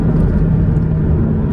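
A Porsche Boxster 718 engine pulls hard in third gear, a loud steady droning growl with a strong low hum, continuous and close throughout.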